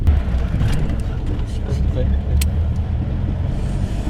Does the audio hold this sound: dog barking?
no